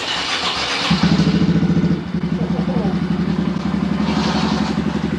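A Honda Grom motorcycle engine in a garage catches at about one second and settles into a steady, loud, close idle with a rapid pulsing beat. It briefly dips around two seconds and then carries on running.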